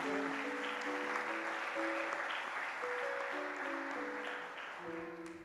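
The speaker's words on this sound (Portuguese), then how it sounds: "Você pode dar um aplauso ao rei?" A church congregation clapping for the king, a faint, diffuse roar of applause blended with sustained keyboard chords and shifting notes, steady throughout and fading slightly at the end.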